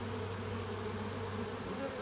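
Honey bees hum steadily inside a hive infested with small hive beetles, a dense, continuous buzz with no voices over it.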